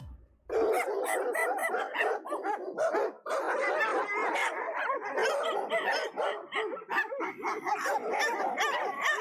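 Several dogs bark and yip loudly and continuously, overlapping one another in a busy, close chorus with occasional whimpers, alone without talk.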